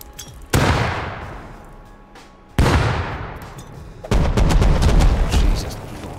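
Heavy video game gunfire and explosions in a Battlefield-style fight against a Bradley, with three loud booming blasts that each ring out and decay, the last followed by a dense stretch of rapid shots.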